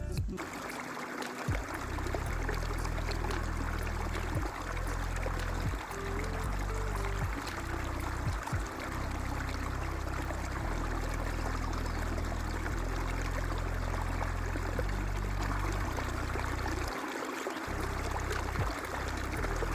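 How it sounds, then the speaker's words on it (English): A tiny waterfall in Meghalaya during the monsoon pours and splashes continuously, a dense rushing wash of water that stays steady for the whole stretch, with occasional low knocks and shifts near the microphone. "We also reached to one tiny waterfall for us to dip ourselves in this cold"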